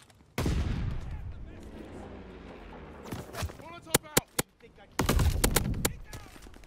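Rapid gunfire in the video game Call of Duty: Vanguard: a sharp cluster of separate shots followed by a dense, loud volley over busy game noise, with a voice speaking at times.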